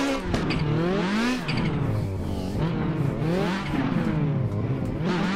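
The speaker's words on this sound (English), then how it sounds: "this car is massively loud, and I love the turbo flutter that this car has" A loud, roughly 800-horsepower turbocharged drift car engine revs hard in repeated rising and falling sweeps, with fluttering turbo chatter between the pulls.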